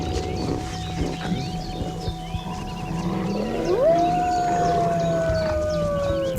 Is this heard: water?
no